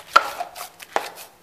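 Drywall joint compound is worked by hand in a pan with a knife, making two sharp scraping knocks followed by softer wet slaps and smears, close and isolated with no talk.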